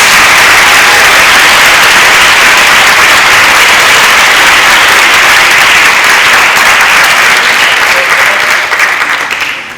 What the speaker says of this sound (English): Can we please give this class a big round of applause?